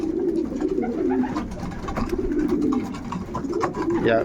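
Pigeons coo steadily in soft, throaty, repeating phrases, close by, with a faint voice now and then underneath.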